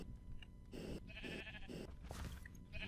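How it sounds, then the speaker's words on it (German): Sheep bleating in Minecraft, several short nasal bleats in a row, clear and fairly close over a low game background. "Da halt noch ein freilaufendes Schaf irgendwo rumgammelt."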